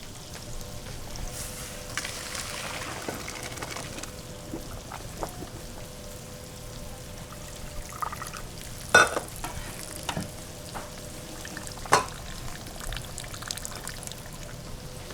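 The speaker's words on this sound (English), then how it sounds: "So we're gonna strain this rice." Cooked al dente rice being strained, a steady watery pour and patter like light rain, with a few sharper clinks and knocks from the pot or strainer standing out.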